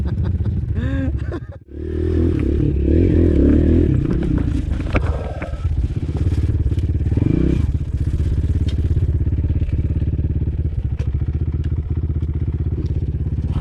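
A motorcycle engine rumbles close by, revving up and down in surges over a steady idle, with a brief drop near the start.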